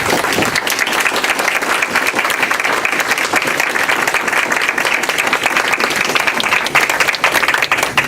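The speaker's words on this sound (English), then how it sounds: "So if we can stand and just give them a round of applause." A seated audience gives sustained, dense applause for panel guests at a community event with a Rochester journalists' association, steady clapping filling the room throughout without pause.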